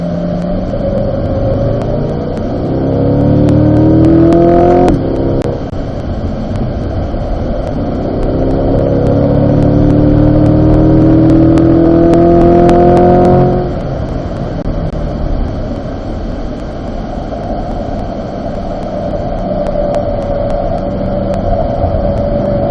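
A C8 Corvette Z51 accelerates on a race track during a driving school. The engine note is loud and close and rises steadily through two long pulls, dropping between them, then settles into a steady lower drone.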